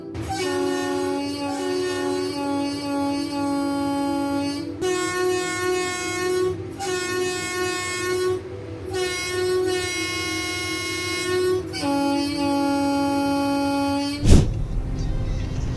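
A train rolls past with a sustained, loud horn blaring in long blasts broken by brief gaps at livestock on the tracks, ending with a heavy thump.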